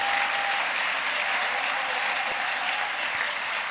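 A church congregation applauds in a steady, dense wash of clapping that continues without a break, fairly quiet and diffuse as if heard from within the room.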